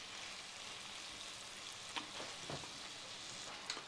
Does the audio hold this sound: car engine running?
no